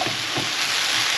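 Beans and chilli sauce fry in a pan over a gas flame, a steady close hiss of sizzling with a couple of soft knocks from stirring, no talk.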